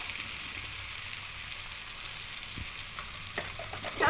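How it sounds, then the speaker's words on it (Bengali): Tomatoes with coriander, cumin, turmeric and chili sautéing in a pan, a faint steady sizzle with a few soft stirring clicks near the end, no talking. "একটু আরও কষিয়ে নেবো টমেটোগুলো দেখুন গলে গলে এসেছে"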